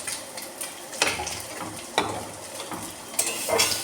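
Kochur loti cooking with onions gets stirred in a pan, with a few distinct scraping strokes roughly once a second over a soft, steady sizzle.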